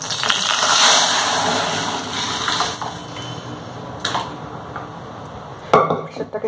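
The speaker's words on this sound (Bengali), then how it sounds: "এবার আমি ডালটাকে কড়াইতে ট্রান্সফার করব।" Cooked dal is poured from a pressure cooker into a wok, with metal pots clanking and scraping and a few sharp knocks near the end, loud and close, with some talking under it.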